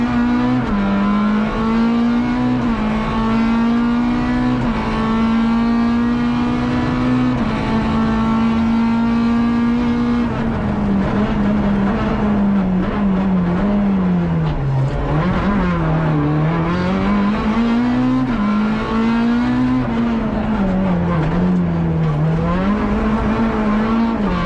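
A rally car races flat out at the 6 Uren Van Kortrijk on dry tarmac, its engine note loud and continuous from inside the car, rising and falling with gear changes and throttle throughout.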